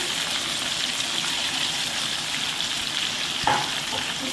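Tomato puree sizzles steadily in a pan, a continuous bright frying hiss with a brief clatter near the end.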